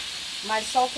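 Salted salmon and onion frying in hot red palm oil for okra stew give off a steady, bright sizzle and hiss, with a voice speaking briefly over it.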